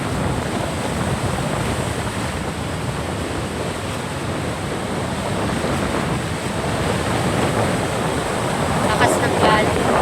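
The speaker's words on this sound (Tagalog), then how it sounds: "Lakas ng alon." Strong waves surging after a storm brought high water, a dense continuous roar of surf mixed with wind buffeting the microphone, loud and building slightly toward the end.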